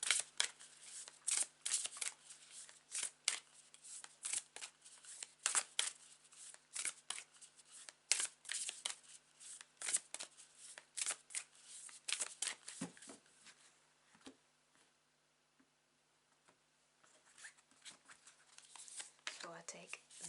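A deck of tarot cards is shuffled by hand close to the microphone. Crisp riffling and slapping strokes repeat in quick, uneven bursts, with a brief quiet pause before the shuffling resumes.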